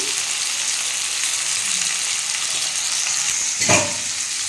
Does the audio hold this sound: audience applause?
no